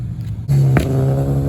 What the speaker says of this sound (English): The Genesis going crazy.